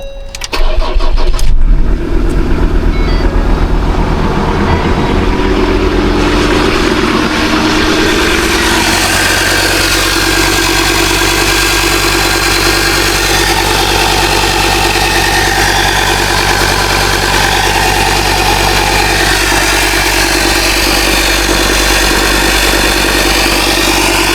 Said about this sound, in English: Let's give it a run and see how it sounds without the full exhaust system connected.